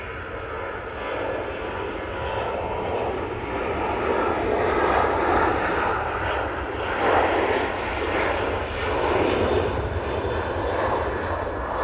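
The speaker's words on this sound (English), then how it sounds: "And that Ryanair is off to Dubrovnik." A Ryanair airliner takes off from Manchester Airport, its jet engines producing a steady, broad roar that swells and eases slightly at moderate distance.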